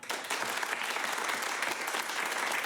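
Audience at an improv comedy show clapping and cheering to vote, a dense, steady burst of applause that fills the room from start to finish.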